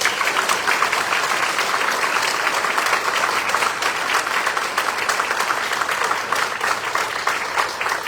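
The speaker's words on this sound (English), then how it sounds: "Please join me in a round of applause for Hector's wife and his entire family" Steady applause at a Marine Corps retirement ceremony for Hector's wife and family, many hands clapping in a dense, even patter that holds at a consistent level from start to finish.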